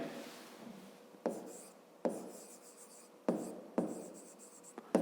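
A maths solution being written on paper, heard as a pen scratching in close, soft strokes with a few sharper taps where new lines begin, and no other sound.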